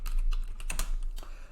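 Fast, continuous typing on a computer keyboard while router configuration commands are entered, with dense close clicks over steady background hum and no pauses.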